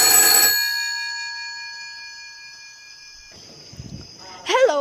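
Old-style telephone bell ringing in a school stage play, a loud sustained metallic ring that cuts off and decays into a long fading tone, followed by a brief rustle and a voice at the end.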